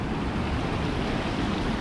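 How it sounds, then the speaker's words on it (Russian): Stormy sea surf crashing against the shore at Yalta during a winter storm, a dense, loud, continuous roar of waves mixed with wind buffeting the microphone, close by and without talk. "потому что волны, сами видите, докуда достают"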